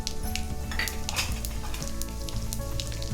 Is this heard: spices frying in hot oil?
yes